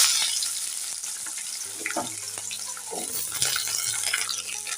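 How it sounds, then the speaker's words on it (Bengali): Mustard-seed style spice tempering and cut potatoes frying in hot oil for a spinach dish, a steady close sizzle with bursts of crackle and stirring clatter throughout. "ফোড়নটা দেখো একটু ভাজা ভাজা হয়ে যাচ্ছে ফোড়নটা যখন একটু ভাজা ভাজা হয়ে যাবে তখন দেখো আমি কেটে রাখা আলুগুলো সব দিয়ে দেবো"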